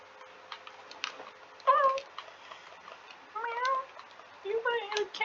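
Cartoon cat meows in the Fight of Animals video game, three separate whiny calls spaced across the moment, fairly close and clear over a quiet background with faint ticking.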